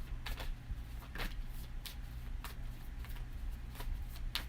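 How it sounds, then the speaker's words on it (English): Tarot cards shuffled by hand in a quiet room, giving a run of soft, brisk riffling bursts roughly every half second over a low steady hum, with no talking. "Let's shuffle those back in."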